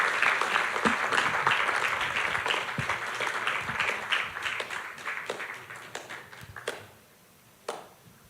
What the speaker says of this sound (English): A brief round of applause.